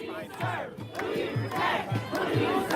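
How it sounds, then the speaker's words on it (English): Protest crowd outside the Broadview facility yelling and shouting as state police push into it, loud and close with overlapping voices and sharp rhythmic cries repeating in quick bursts. "State police pushing the crowd,"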